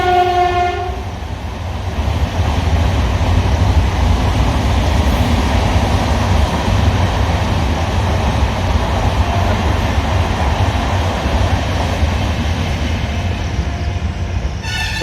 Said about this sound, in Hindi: इस कारण से ट्रेन आ गई थी अभी